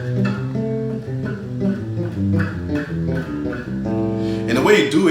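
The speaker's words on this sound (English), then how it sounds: "So I like to break up my scale into sixes." A musical scale is played in sixth intervals as a run of clear, sustained pitched notes that step along steadily, with paired tones ringing together and no talking.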